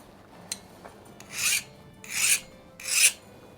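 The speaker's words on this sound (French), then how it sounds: "On prend une lime." A hand file rasps across a freshly hardened knife blade in three long, even strokes, bright and gritty, close and fairly loud, with a couple of light taps between them and no talking.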